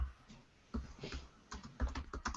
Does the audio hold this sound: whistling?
no